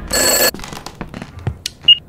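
A telephone rings in the horror video game Summer of 58: one loud, buzzy ring burst opens the clip, then quieter clicks, thumps and a short high tone follow.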